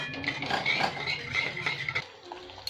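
Fried pointed gourd (potol) tipped into a pan for a yogurt-based doi potol curry, with metal utensils clattering and stirring against the pan, plus a soft sizzle throughout; no voices.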